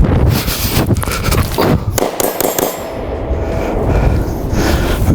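A concealed carry pistol firing four shots on an outdoor range, several loud sharp reports with ringing echoes in close succession, over wind noise.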